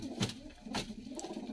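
A kabootar pigeon coos softly near by, a couple of low throaty pulses over a quiet background.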